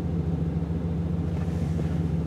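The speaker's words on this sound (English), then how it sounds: "this is inside the cab, just at idle" A truck engine with a Jones max flow exhaust idles from inside the cab as a steady, low droning hum with a constant pitch, close and even, with no voices.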